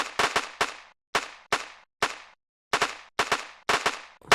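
Cartoon pellet-gun gunfire in a Filipino animated play-fight, with shotgun and pistol pellet guns: rapid bursts of loud, sharp cracks, often in doubles and triples, separated by short silent gaps.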